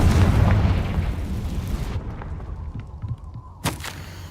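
A loud Confringo spell explosion in Hogwarts Legacy opens the clip and rumbles for about two seconds. The blast fades into a quieter tail, then a sharp crack-like burst comes near the end.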